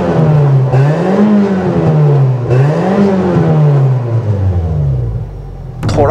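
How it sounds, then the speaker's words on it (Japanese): A Nissan K11 March with a five-speed manual and a largely stock engine revs hard through a Trust aftermarket muffler, rising and falling twice in loud, close sweeps before settling and dropping away, with a brief burst at the end. "トラストのマフラー泣いております"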